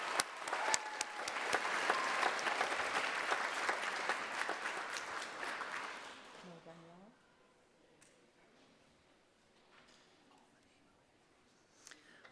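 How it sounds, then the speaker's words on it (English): Audience clapping at an Indigenous honouring ceremony rises into a full round of applause for several seconds, then dies away into a quiet room with faint murmuring and small movements. "you can just clap"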